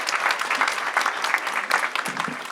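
Audience applause at a conference session, a close, dense burst of clapping from a fairly sizable crowd that holds steady throughout.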